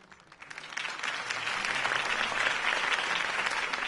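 Crowd applause after a campaign speech in Batman: The Telltale Series, rising quickly from a few claps into a sustained, dense round of clapping that holds steady to the end.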